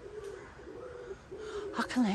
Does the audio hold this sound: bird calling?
yes